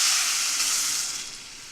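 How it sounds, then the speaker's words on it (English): Water hits a hot rice pot with a steady hiss and sizzle that slowly fades over a couple of seconds. "I'm gonna add the water."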